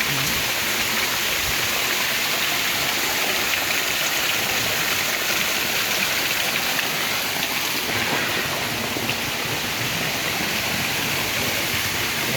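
Water flows steadily in a stream at a lagoon, a continuous broad rushing wash with no breaks and no voices.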